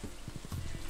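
A horse in the Stardew Valley video game gives a quick run of rhythmic clip-clop hoofbeats, close and clear.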